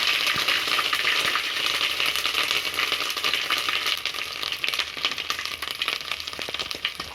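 Ginger garlic paste fries in a hot pan with spices, making a steady bright sizzle with scattered crackles and the occasional scrape of stirring, close and continuous, with no talking.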